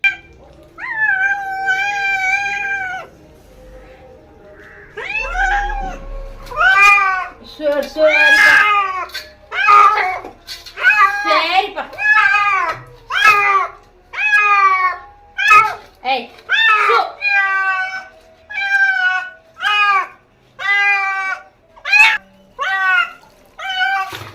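Several cats meow over and over while being bathed at home, their cries loud and close, sometimes drawn out and sometimes short and urgent. The cries come in a steady run of wails, with quieter sounds between them.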